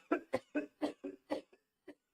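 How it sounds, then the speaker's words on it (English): A person coughs in a rapid burst of about seven harsh hacks, close and fairly loud, with a last weaker cough after a short pause. "There should be no need to cough like that ever"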